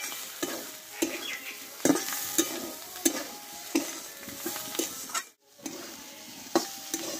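Potatoes and spring onion stalks stir-fried in a pan, with a steady sizzle broken by scraping spatula strokes and sharp utensil clacks, close and loud throughout, with a brief drop in the sound near the end.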